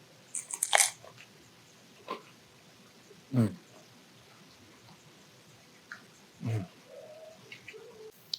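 A few separate crisp crunching bites into crunchy baked potato skin, close and fairly loud, with quiet pauses between them.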